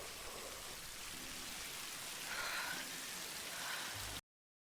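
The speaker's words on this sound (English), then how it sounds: "it's very background for how heavily it's raining" Heavy rain from a sound effect in reviewed media: a dense, steady hiss of pouring downpour, uniform and fairly loud throughout before it cuts off abruptly to silence.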